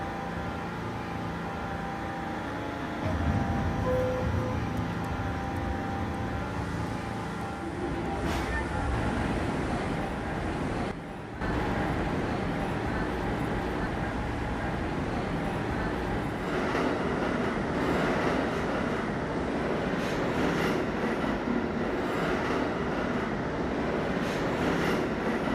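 A D express subway train runs along the line toward 12th Street City Hall, its steady loud rumble and rattling wheels carrying on throughout, with a brief dip near the middle and occasional squeal-like tones.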